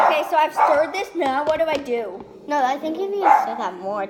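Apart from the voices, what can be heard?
dog barking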